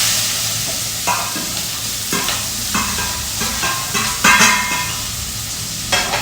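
Chopped onion hits hot oil in a pan on a gas stove while Maggie noodles are being cooked, giving a loud, steady sizzle with sharp crackles, bursts and stirring scrapes throughout, and no talk.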